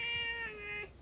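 A cat meows once on a Jeju Island hillside, a close, clear drawn-out cry that fades at the end, with no one talking.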